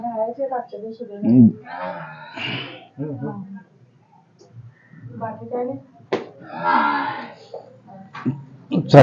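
A dairy cow on a farm gives a few short, close lowing calls spread across the clip, mixed in with someone speaking nearby.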